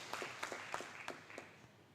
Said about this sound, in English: So clap for yourself.